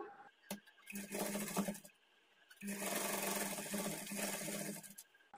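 Sewing machine edge stitching along a folded blouse hem, in two close, steady whirring runs separated by a short pause.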